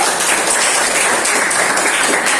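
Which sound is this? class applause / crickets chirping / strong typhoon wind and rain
class applause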